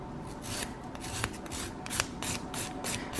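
A fingernail being filed and smoothed, quiet rapid rasping strokes close up, rubbing back and forth in an even rhythm with no talk.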